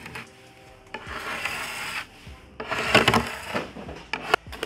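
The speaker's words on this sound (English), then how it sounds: "Now before I start sanding, I'm going to use this spatula to help take off some of this wax." A spatula scrapes wax off a wooden dresser before sanding. It makes close, quiet rasping strokes in several bursts, with short pauses and a sharper scrape near the end.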